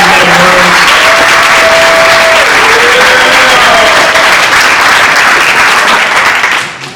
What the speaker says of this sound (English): Let's give the authors another round of applause.